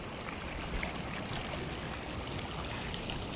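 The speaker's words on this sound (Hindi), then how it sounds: "जहाँ पानी ज़्यादा है वो बह भी रहा है" A cold mountain stream flows and trickles on the road near Chang La Pass toward Pangong Tso, Ladakh, where some water sits half frozen. It makes a faint, soft, continuous babble with no voices.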